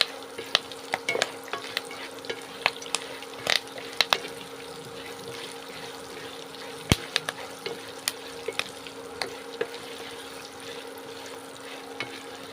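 Crushed garlic frying in a pan while being stirred: a steady sizzle with frequent sharp spatula scrapes and taps against the pan, loud and close.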